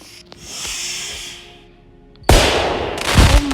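Backyard Fourth of July fireworks: a hissing fuse or fountain rises and fades, then two sharp, loud bangs with crackling bursts go off close by.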